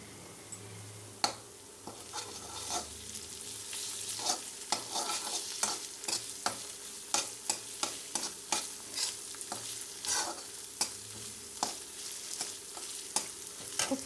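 Ginger garlic paste frying in oil with curry leaves and meal maker soya chunks, a steady sizzle overlaid by frequent sharp spoon clicks and scrapes against the pan, close up.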